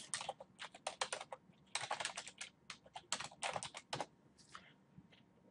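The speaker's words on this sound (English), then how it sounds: "Typing too fast" Fast typing on a computer keyboard, close and crisp, in bursts of rapid clicking keystrokes with brief pauses between runs, alone with no talk.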